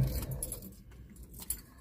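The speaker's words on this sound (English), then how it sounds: "turn off the engine of the car." Car keys jangle close by as the engine is switched off, a short metallic rattle over a low vehicle rumble that fades out.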